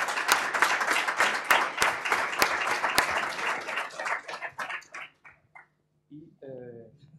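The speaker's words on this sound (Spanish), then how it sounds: "vamos a darles un aplauso" An audience at a mathematics lecture applauds the organizers with steady, crisp clapping that gradually thins out and stops, followed by a voice starting to speak.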